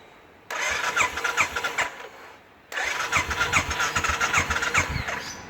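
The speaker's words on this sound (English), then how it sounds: "I'll start the bike up." A cold Royal Enfield Classic 500 motorcycle engine cranks and fires twice, each start running into a rough, pulsing idle up close, with a brief pause between attempts.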